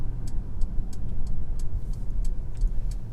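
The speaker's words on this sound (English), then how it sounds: "there's the indicator. I haven't had it indicate today" A car turn-signal indicator ticks steadily at an even pace, faint and crisp above a constant low road and engine rumble inside a moving car.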